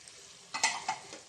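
Chopped capsicum and tomatoes tossed into a pan with chicken jalfrezi, giving a few short sizzling bursts and stirring scrapes over a quiet background, fairly close and brief.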